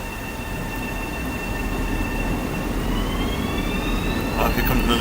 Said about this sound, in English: Oh, here comes another train.